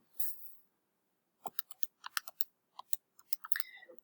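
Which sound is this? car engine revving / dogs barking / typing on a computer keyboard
typing on a computer keyboard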